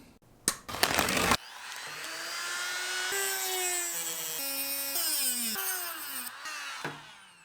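A power tool cutting a stuck rubber upper radiator hose connector on a BMW, a rising and falling whine that grinds on steadily for several seconds after a few sharp rattling knocks, close and fairly loud.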